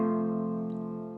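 A single sustained guitar chord rings steadily at moderate level and fades slightly, with a faint squeak of fingers sliding along the strings from E up to F.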